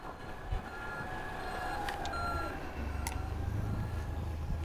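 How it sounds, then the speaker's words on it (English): Outdoors on a bright day, a forklift's reversing alarm beeps steadily at mid distance over a low engine rumble and wind noise. "The forklift's coming in now."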